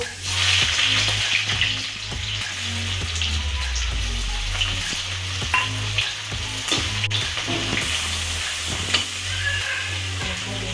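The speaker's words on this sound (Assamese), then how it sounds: "কেৰাহীত তেল দিলোঁ এতিয়া এই পেষ্টখিনি দি দিওঁ" Spice paste hits hot oil in a wok and crackles with a loud, busy sizzle, punctuated by clinks and stirring, close up and continuous with no voices.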